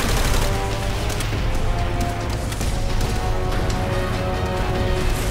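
Dense gunfire and battlefield chaos rage in Call of Duty: World at War, sustained shots crackling over a constant loud roar with no pause.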